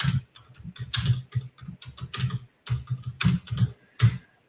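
Rapid, uneven bursts of clicking keystrokes on a computer keyboard, close and clear, with brief pauses between flurries.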